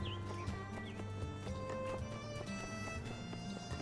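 Rented horse's hooves clip-clop in the video game My Time at Sandrock, a steady trotting patter over a dense layer of game music and ambience, with no talking.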